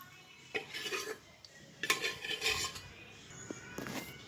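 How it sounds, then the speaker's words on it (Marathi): Cooked jackfruit seed curry is scooped from the pan into a serving pot, with scattered spoon scrapes and light metallic clinks, close but quiet, separated by short pauses. "आपण काठ्या भांड्यामध्ये काढून घेऊ।"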